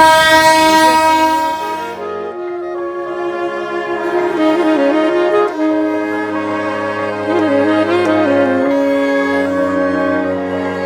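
India's oldest toy train, about 150 years old, runs with a loud, sustained horn-like tooting tone that wavers in pitch, continuous and close, with no talking, near Batasia Loop.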